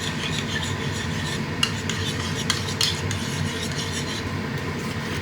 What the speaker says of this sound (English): just give it a mix. Bring it together.